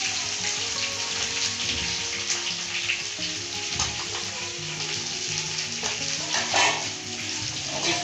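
Vegetables going into a hot pan of frying onions, giving a steady, close sizzle with faint scraping and clatter and no talking.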